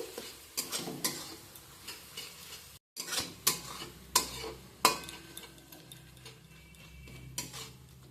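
Onions with ginger and garlic sautéing in a pan over medium-high flame for chicken biryani, quiet sizzle broken by repeated utensil scrapes and clinks against the pan, with a short gap of silence early on.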